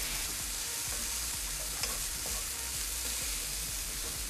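Rice stir-fried quickly in an oiled pan gives a continuous close hiss and sizzle with light scraping and stirring. No voices are heard.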